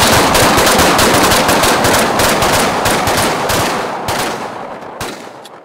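Rapid, loud gunfire fills a concealed carry class on the range, overlapping shots crackling in a dense volley that thins toward the end with a few last reports.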